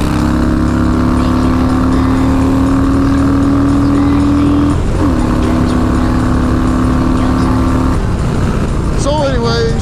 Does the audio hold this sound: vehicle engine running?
yes